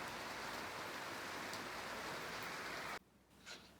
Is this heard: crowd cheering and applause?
no